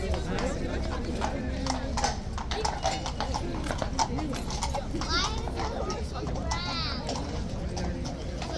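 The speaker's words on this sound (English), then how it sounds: "I'm pretty certain this is Zadok coming into the box now" Hooves clip-clop on a hard floor as a horse walks in, with voices chattering and a busy crowd in the background.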